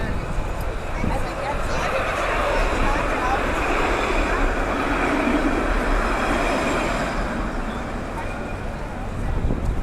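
A tram rolls past on a city street in Nice, France, with a broad, steady rumble and hiss that holds for several seconds amid background chatter and ambient street noise.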